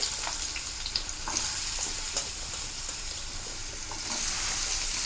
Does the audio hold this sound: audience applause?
no